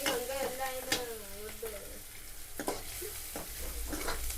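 Chillies frying in hot oil in a home kitchen give a steady close sizzle with scattered crackles and pops, plus faint stirring scrapes and a brief voice-like tone early on.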